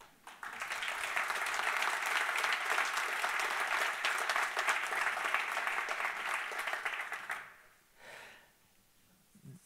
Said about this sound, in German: Da bitte ich nochmal einen extra Applaus